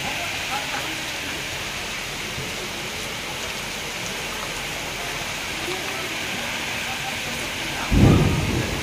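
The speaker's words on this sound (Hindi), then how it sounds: "वर्षा पकड़ा भयंकर वर्षा" Heavy rain pours steadily in a thunderstorm, a constant loud wash of water, with a sudden low thump of thunder close by near the end.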